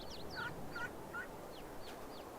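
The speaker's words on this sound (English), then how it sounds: "And I have some baby ducks." Ducks in Farming Simulator 22 giving a few quick squeaky calls in short bursts over a low background hum, fairly close, with no talking.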